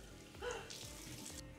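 Tap water runs steadily into a bathroom sink during face washing, a continuous rushing splash heard close up, with no talking.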